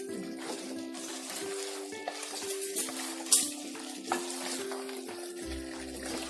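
Mangalore-style chicken sukka with spices is stirred in a pan, giving soft scraping strokes over a low sizzle, with a couple of sharper clanks of the spoon against the pan.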